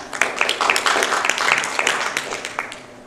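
An audience at a Yonsei graduate school presentation event claps to welcome the next student speaker, a lively burst of many hands close by that thins and fades toward the end.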